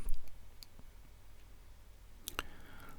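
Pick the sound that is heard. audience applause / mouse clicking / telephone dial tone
mouse clicking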